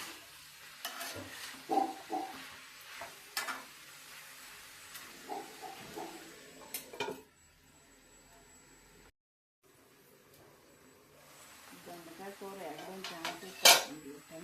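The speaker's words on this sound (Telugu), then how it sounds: "అప్పుడప్పుడు ఇలా మూత తీసుకుని తిప్పుకుంటూ ఉండాలి" Ivy gourd fry cooking in a lidded pan, with a spatula scraping and clattering as it is stirred, a quiet gap, then renewed sizzling and a sharp metallic clank; a voice speaks at times.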